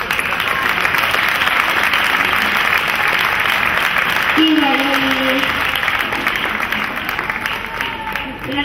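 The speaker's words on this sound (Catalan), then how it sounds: "Un fort aplaudiment, sisplau." An audience at a Pubillatge election ceremony in Vilassar de Mar breaks into loud, dense applause that fills the room, with a brief voice cutting in partway through before the clapping carries on steadily.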